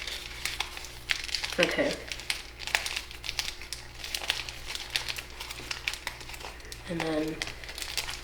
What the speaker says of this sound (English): Now fold this whole layer, and then inside reverse fold it.